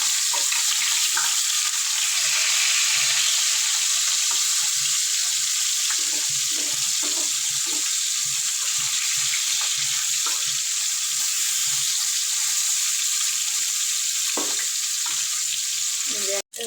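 Rohu fish pieces sizzle steadily in hot oil while being flipped one by one, with repeated soft taps and scrapes of a spatula against the pan over the constant crackle, ending in a sharp knock.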